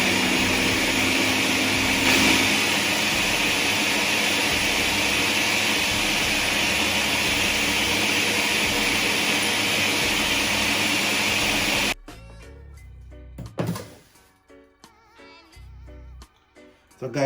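A blender whirs steadily and loudly as it purees Jamaican green seasoning herbs, then cuts off abruptly, leaving a few faint knocks and handling sounds.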